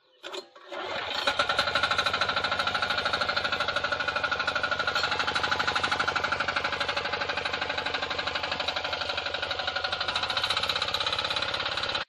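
A diesel power tiller with a 5-litre tank is pull-started and catches, settling into a loud, steady, rapid engine chug that runs close by without a break for the rest of the stretch.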